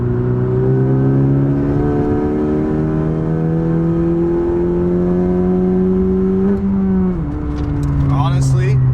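A 2018 Honda Civic Si fitted with an upgraded intercooler pulls hard in fourth gear around 3,500 rpm, its engine drone loud and steady from inside the cabin, rising slowly with a brief dip near the end while a voice talks over it.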